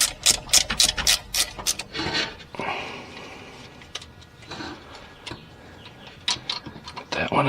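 A ratchet works the hinge bracket bolts on a 1938 Buick Special, giving quick bursts of sharp clicking strokes at close range, with pauses, quieter handling noises and brief talk.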